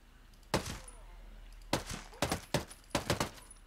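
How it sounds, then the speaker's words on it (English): Suppressed gunshots in the video game Ghost Recon come as sharp, muffled cracks. A single shot lands first, then a spaced series of five or six quick shots follows against a quiet background. "These are suppressed shots"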